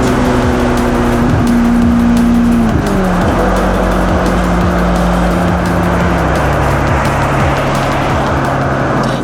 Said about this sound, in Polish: jedziemy tysiąckodnym hiperkarem